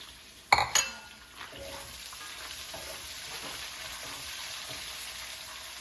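Onions dropped into a hot pan hit with a sharp clatter and a burst of hissing, then settle into a steady, even frying sizzle.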